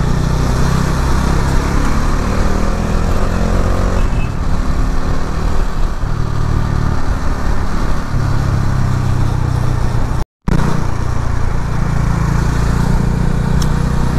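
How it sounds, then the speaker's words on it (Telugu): A motorcycle rides along a ring road service road, its engine droning loud and steady with wind rumble. The sound drops out for a moment before the engine note resumes. "ఇప్పుడు స్మూత్గా వెళ్తుంది బండి"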